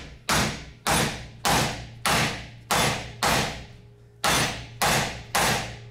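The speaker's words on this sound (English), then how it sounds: "This is a 4-pound sledge." A 4-pound sledgehammer repeatedly strikes a TIG-welded 7075 aluminum T-weld, eight loud close metallic blows in a steady rhythm with a short pause before the last three, each ringing briefly.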